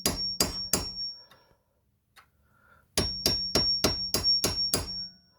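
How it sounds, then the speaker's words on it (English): A hammer strikes a driveshaft dogbone pin in sharp metallic blows: three quick hits, a pause, then a run of about seven more ringing strikes, close and loud. "I'm trying to give this one a quick little whack."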